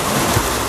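An ocean wave bursts against rock in a brief, loud, surging wash of water that fills the whole moment.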